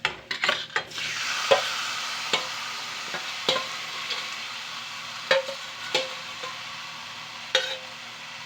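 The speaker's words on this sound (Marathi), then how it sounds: "त्याच्यामध्ये चिकन आपण घालून घेतलेलं आहे, बरं मिक्स करून घेऊया, हलवून घेऊया" Chicken pieces stirred into fried onions in a pan for chicken gravy, with a steady sizzle under repeated scraping strokes of a spoon against the pan at an uneven rhythm, close and fairly loud.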